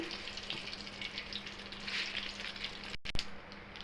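Dried red chillies and nigella seeds sizzle in hot oil with a steady close frying hiss, broken briefly by a short clatter near the end, with no talking.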